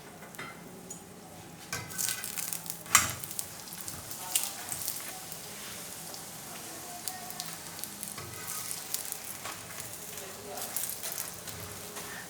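Egg paratha frying in ghee on a pan, a soft, steady sizzle with faint crackles and occasional clinks of a utensil, close and continuous.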